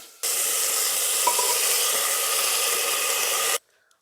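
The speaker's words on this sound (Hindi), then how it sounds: "जीरा, धनिया और हल्दी और थोड़ी सी डाल देती हूँ मैं मिर्च" Cumin, coriander, turmeric and chili hit a hot pan in a home kitchen and set off a loud, steady sizzle that lasts over three seconds before cutting off sharply.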